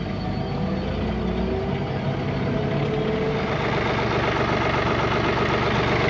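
A New Holland tractor engine runs at a steady, close, unbroken drone with a low rumble and no voices.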